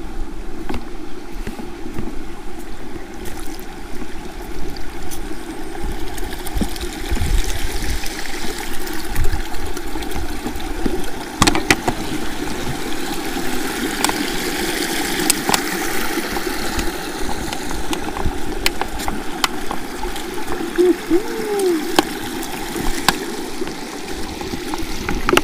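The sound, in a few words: waterfall water flowing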